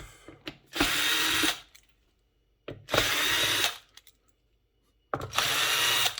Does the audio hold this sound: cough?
no